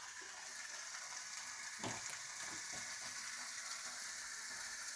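Bacon rashers frying in a pan alongside Polish sausages, a steady, soft hiss of sizzling fat with a couple of faint crackles and pops, no voices.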